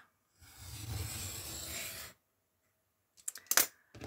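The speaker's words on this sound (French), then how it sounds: "Je coupe avec mon cutter." A utility knife drawn through paper on a craft journal page: one smooth close scraping stroke lasting under two seconds, then silence and a few light clicks and taps.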